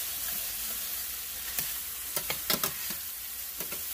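Cooked rice is being stirred into a sizzling shrimp, chicken and vegetable stir fry in a hot pan. A constant frying hiss carries a series of quick scraping and clacking strokes from the stirring utensil.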